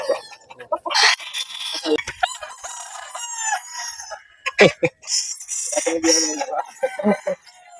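Sweater and Gilmore gamefowl roosters on a gamefarm crow loudly and close by, several overlapping calls with a few clucks, under scattered human voices.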